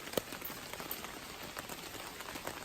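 Rain patters steadily on a hammock shelter at Steel Creek Campground, a soft continuous hiss of drops with a few sharper close taps, with no one talking.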